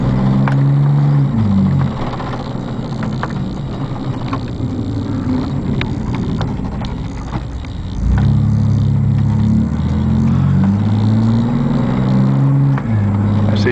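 A Chevrolet Blazer engine idles with a steady low rumble and rises in two revs, one at the start and a longer one near the end, loud and close, with no talk.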